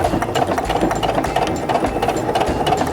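A sewing machine stitches steadily through a zip top bag at slow speed, a continuous close mechanical whir with a fast rattling pulse running without a break.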